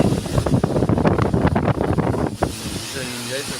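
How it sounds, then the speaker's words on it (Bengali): Strong wind from a Kalbaishakhi thunderstorm buffets the microphone with loud, rough gusting roar that eases toward the end, and a voice speaks briefly near the close. "ঝড় উঠেছে"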